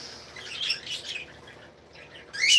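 Budgies and cockatiels chirp in an outdoor garden aviary on a cold day, with soft, scattered tweets in short bursts and a brighter flurry near the end, fairly faint at a moderate distance.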